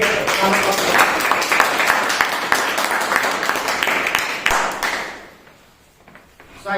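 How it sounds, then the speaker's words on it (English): Members at a club meeting clap together in a round of applause, a moderately close burst of many hands that thins and dies away near the end. "Have a round great round of applause."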